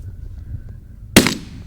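A single sharp gunshot fired at a bird while hunting cracks loudly outdoors after a low rumbling background, its blast decaying quickly.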